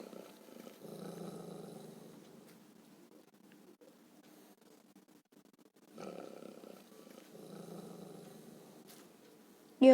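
A dog growls in a video game, two low rumbling bursts at the start and near the end, moderately loud, with quieter game ambience between them and no talking.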